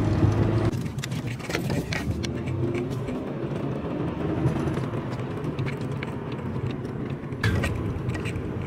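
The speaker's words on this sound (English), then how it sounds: "Y'all just gonna have a montage of me driving home." Steady low rumble of a car heard from inside the cabin while driving home, a continuous broadband road and engine drone with a few faint clicks and rattles throughout.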